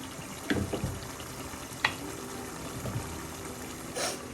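Prawn masala simmers and reduces in a pan with a faint steady bubbling sizzle and a few soft clinks close by.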